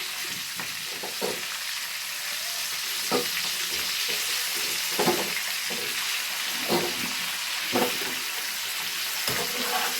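Boiled duck eggs are fried and turned in an egg curry. A steady sizzle continues throughout, with periodic scraping strokes from the spatula at a loose, unhurried pace.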